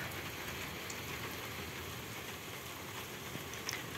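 Steady rain falling during a long thunderstorm with hail, a soft continuous hiss of drops with occasional faint sharper taps, no talking.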